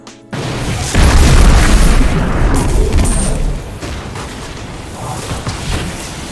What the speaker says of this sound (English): especially with the scatter grenade we're using. Check it out.